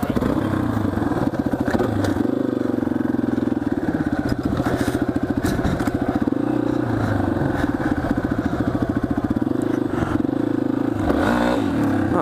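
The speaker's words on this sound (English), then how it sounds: "I'm about to bomb this wheelie going that way." A motorcycle engine revs hard and sustains a loud, rough roar while the rider pulls a wheelie, the pitch rising and falling with throttle changes and a brief surge near the end.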